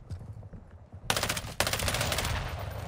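Rapid automatic gunfire in Call of Duty Modern Warfare II DMZ, starting abruptly after a quiet stretch and continuing as a loud, dense burst with a second surge partway through.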